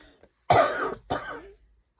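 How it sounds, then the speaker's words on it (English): Two chesty coughs, the first loud and harsh, the second shorter and softer, close to the microphone in a quiet room. "This cough is slowly going away, and I do mean slowly."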